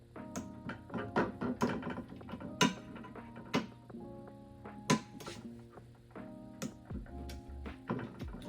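A torque wrench tightening dropout mounting bolts on a Canfield Lithium mountain bike frame gives a run of small mechanical ticks and ratcheting clicks in uneven bursts, close and fairly quiet, with no talk.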